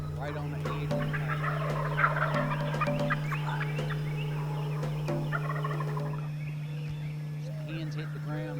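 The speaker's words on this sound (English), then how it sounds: "Birds start gobbling right on the edge of the" Wild turkey gobblers gobble repeatedly at dawn, the rattling calls moderately distant and overlapping at times, set against a steady low background hum.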